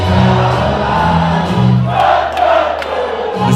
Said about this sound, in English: The scenes are going crazy here in the crowd.